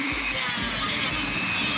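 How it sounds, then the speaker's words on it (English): A Dremel rotary tool whines steadily while cutting wood for an LED matrix project, a continuous high-pitched buzzing drone that stays loud and close for the whole stretch, with no voices. "I'm going to use my Dremel on this."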